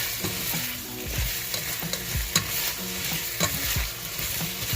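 Potatoes frying in a pan are stirred vigorously, with repeated scraping strokes and clinks of the utensil over a steady sizzle, close and alone, with no talking.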